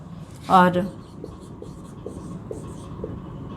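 A teacher writes on a board during a Class VII Sanskrit grammar lesson, producing soft, evenly spaced taps and scratches after a brief burst of speech.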